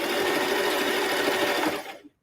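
A sewing machine runs steadily, stitching a sweatshirt for close to two seconds, loud and close, then winds down and stops.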